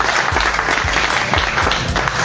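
Audience applause at a community leadership event, a steady wash of clapping hands filling the whole moment at close range with no voices over it.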